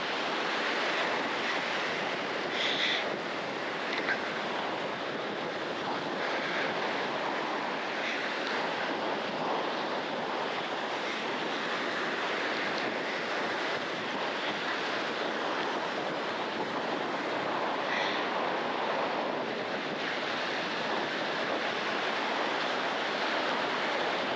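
Continuous roar of wind buffeting the microphone over the steady wash of waves breaking on Ballywalter Beach on a windy day, with no voices, unbroken for the whole stretch.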